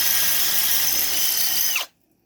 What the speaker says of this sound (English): getting ready to drill out 2 fender washers here